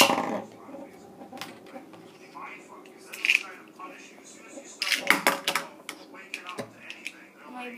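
Beyblade Burst spinning tops, including Phantazus, launched into a stadium, with light metallic scraping, clicks and clattering collisions bursting out in the second half amid quieter whirring, while people talk nearby.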